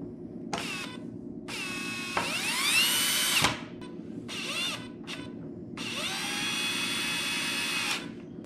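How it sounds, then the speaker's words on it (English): A power drill bolts together homemade wooden bicycle rollers in several separate bursts, the motor whining up and spinning down between runs, close and loud. "Now we're just gonna have to bolt everything together."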